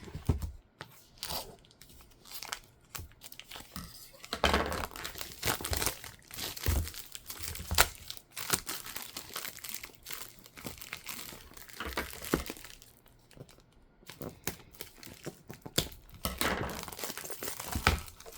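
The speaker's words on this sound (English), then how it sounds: "So I can get in here and cut the plastic." Plastic packaging is cut and crinkled by hand close up, giving continuous loud crackling, rustling and tearing with busy bursts and brief lulls, and no talk.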